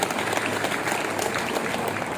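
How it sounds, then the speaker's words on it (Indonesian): Dense, steady applause from a school audience at a student orientation opening, a continuous wash of many hands clapping together at moderate loudness, with faint voices mixed in. "Nah, tepuk tangan dulu."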